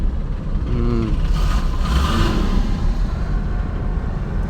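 A motorbike engine runs steadily at around 100 on a road ride, a loud continuous drone with wind rush and a slight rise in pitch mid-way, no voices.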